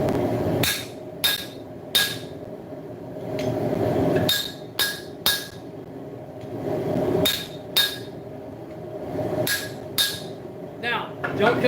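Hot-cut chisel struck with a hammer into mild steel on an anvil while forging guards, giving sharp ringing metallic blows in short clusters with pauses between, close and loud.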